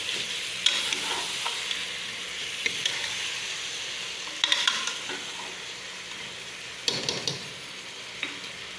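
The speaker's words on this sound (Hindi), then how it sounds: "अब मैं इसमें ये टमाटर डालूँगी।" Tomatoes go into sizzling meat for an achar gosht curry, frying with a steady loud hiss while a spoon scrapes and stirs the pan in occasional bursts.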